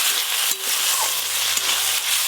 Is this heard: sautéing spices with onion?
yes